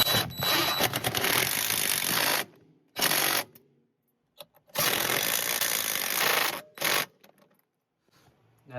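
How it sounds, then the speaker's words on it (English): Power drill driving bolts into an under-seat safe in a Tesla Cybertruck, in loud whirring bursts: a long run, a short burst, another long run and a brief final zip, with quiet gaps between. "And tighten it down with the drill."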